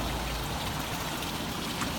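Water trickling steadily from a waterfall blade into a raised koi pond, a soft continuous splashing wash at low level with no voices.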